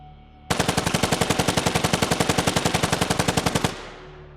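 Designed machine gun sound effect: a rapid, even burst of about thirty loud, close shots lasting roughly three seconds, then a short fading tail of reverb.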